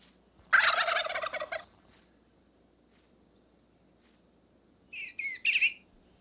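A wild turkey gobbles in a loud, rapid rattling burst in springtime Shenandoah hollows, then after a pause a shorter pair of gobbling calls sounds farther off.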